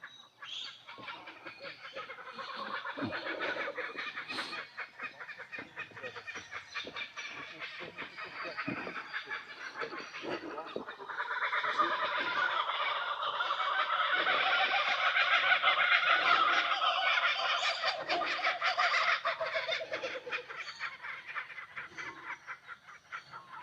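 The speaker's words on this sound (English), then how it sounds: "Here's a kookaburra." A kookaburra calls from trees during a morning walk in Innisfail, Australia, giving a long rising cackling chorus that swells and falls over about twenty seconds at moderate distance.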